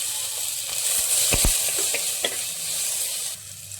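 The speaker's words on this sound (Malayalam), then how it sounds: "ഒരു ടൊമാറ്റോ അരിഞ്ഞത് ചേർത്ത് കൊടുക്കാം." Chopped tomato goes into a hot frying pan while a Kerala fish curry is being made, giving a strong continuous sizzle with a few sharp spatula taps and stirring scrapes.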